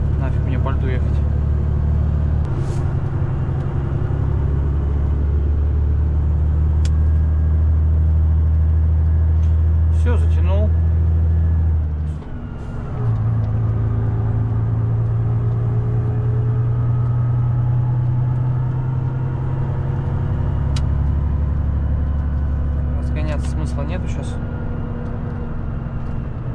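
A long-haul truck rolls along an icy winter ice road with a steady loud engine drone and low rumble, briefly dipping before resuming, while someone talks over it.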